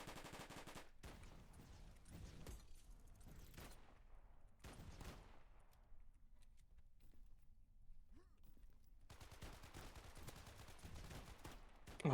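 Video game gunfire comes in loud bursts, rapid rattling volleys separated by quieter gaps, with a long burst near the end, alone without talk.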